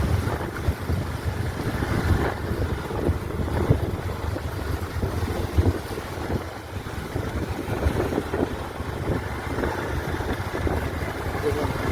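A motorbike engine drones steadily while riding along a road past trees and mango orchards, a constant low rumble mixed with heavy wind buffeting the microphone.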